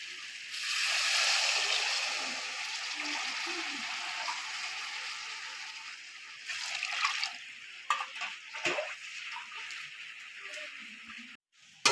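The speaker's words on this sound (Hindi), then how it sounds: "ये वाले 4 कोले में पानी शामिल करने लगा हूँ।" Water pours steadily into a cooking pot of black chickpea pulao with a hissing, splashing stream, then slows to intermittent splashes and clinks before stopping.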